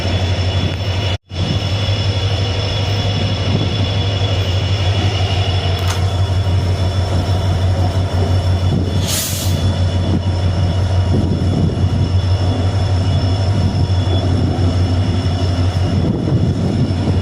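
The Rameswaram–Velankanni passenger train runs toward the Pamban bridge, a loud, continuous low rumble of wheels and carriages heard from inside the coach, with a brief dropout early on and faint higher rattles throughout.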